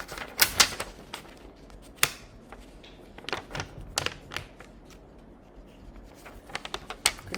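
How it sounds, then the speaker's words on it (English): A stencil is peeled off a food-themed sign in a crafting session, giving sharp ticks and crackly snaps, irregular and close, with a cluster at the start and scattered pops afterward, no talk. "Peeling it off this side."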